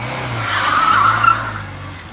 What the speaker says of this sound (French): Il est éventuellement possible de faire comme dans vos films de course favoris, c'est-à-dire crisper les pneus.